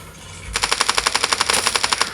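Rapid automatic weapon fire in the mobile shooter Standoff 2, a loud, steady burst of about fifteen evenly spaced shots lasting under two seconds, close and alone.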